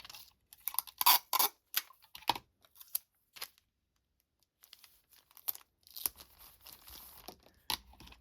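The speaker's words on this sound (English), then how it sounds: "I'll just add some tape" Tape is torn from a roll and pressed down in a series of sharp crinkling rips and sticky pulls, separated by pauses, close and fairly loud in a quiet room with no talking.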